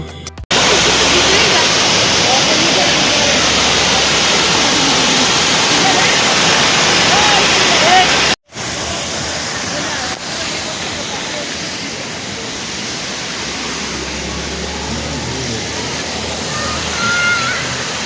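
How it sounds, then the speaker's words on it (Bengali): A waterfall in Meghalaya under heavy cloud roars as a loud, steady broadband rush throughout, broken by a brief cut near the middle before the continuous torrent resumes. "এই ওয়াটারফলসটা দেখে তারপর এখানে আর একটা ওয়াটারফলস দেখতে চলে এসলাম"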